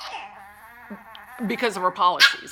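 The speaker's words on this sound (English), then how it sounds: "Pardon my dog." A pet dog whimpers and whines in high, wavering bursts close by, rising in the second half, while a person talks over it.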